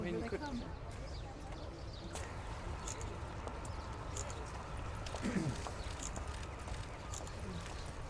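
A racehorse walks with soft, irregular hoof clops over a constant low background rumble, with faint voices around it.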